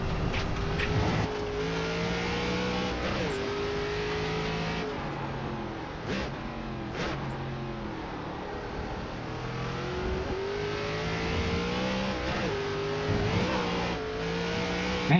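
ARCA race car engine in iRacing at Lime Rock, revving and droning steadily throughout, with repeated dips as the throttle lifts and rises again through corners, close and continuous.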